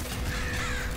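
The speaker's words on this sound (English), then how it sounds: "That crow, I think that crow survived the explosion of the car from like a foot away" A crow caws in the video game Nuclear Throne, a short harsh call heard once and fairly close, mixed with game background noise.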